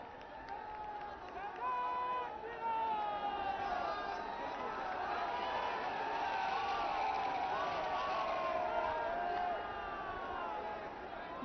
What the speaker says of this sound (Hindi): जोरदार तालियों के साथ अपने प्रणाम मंच तक पहुंचाएं माननीय प्रधानमंत्री जी के चरणों में।